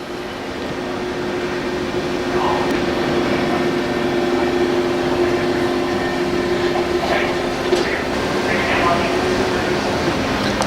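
A CNC router in a woodworking shop homing its axes gives a steady, close mechanical hum with a faint tonal whine throughout, plus occasional light clicks.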